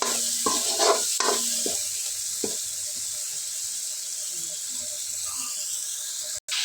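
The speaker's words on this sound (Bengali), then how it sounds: "এখন মশলাটা ভালো করে কষানোর জন্য শুক্তি দিয়ে একটু ভেজে নেব" Spice paste with turmeric, chili and coriander frying in a pan, a soft steady sizzle under several scraping stirs of a spatula early on, then continuous frying hiss.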